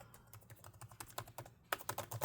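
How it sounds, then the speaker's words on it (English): Typing on an HP Pavilion 15-cs1065cl laptop keyboard after a palmrest replacement: quick, light clicking keystrokes in a steady run, growing louder and denser near the end. "now that I press it, all the keys work"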